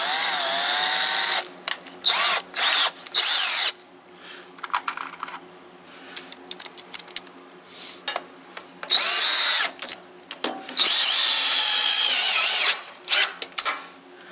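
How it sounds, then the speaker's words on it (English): A Milwaukee power drill whirs in repeated short and longer bursts with quiet gaps between, close by at a Woodmizer LT15 sawmill cutting white pine, with no talking. "Milwaukee drill."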